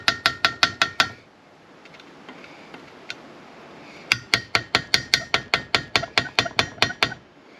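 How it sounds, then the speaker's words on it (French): A hammer taps at rusted screws on a Webasto Air Top 5000 heater aboard a Lagoon 380 catamaran. There is one burst of six quick metallic knocks, a pause with faint handling noise, then a longer run of about fifteen rapid, sharp, close strikes. "On décolle un petit coup de marteau"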